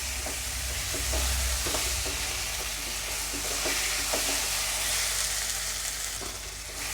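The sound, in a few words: stirring and frying curry base in a pan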